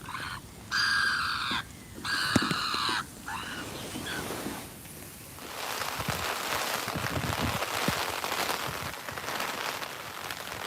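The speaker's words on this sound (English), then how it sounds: "That noise is the rain." Heavy rain pours steadily on the Norfolk Broads at Martham Staithe, a dense hiss of drops striking surfaces nearby, with a few harsh bird calls cutting through early on.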